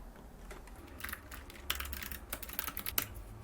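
Light clicking keystrokes on a computer keyboard come in irregular quick bursts as an email address is typed, soft and close in a quiet room.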